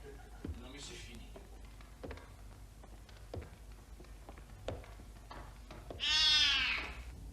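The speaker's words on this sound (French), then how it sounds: "Un chat?" A cat meows clearly once near the end, loud and close, after a stretch of quiet footsteps, taps and faint voices during a dessert scene in a French horror film.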